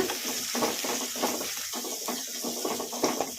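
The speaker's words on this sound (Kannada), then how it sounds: "ಉಳ್ಳಾಗಡ್ಡಿ ಲೈಟ್ ಗೋಲ್ಡನ್ ಬ್ರೌನ್ ಕಲರ್ ಬರೋವರೆಗೂ ಫ್ರೈ ಮಾಡ್ಕೊಂಡ್ಬಿಡೋಣ ಈ ಥರ ಕಲಸ್ಕೊಂತ" Onions fry in spiced oil for cashew masala rice, a close sizzling hiss broken by rhythmic scraping strokes as they are stirred over medium flame, steady throughout with no talking.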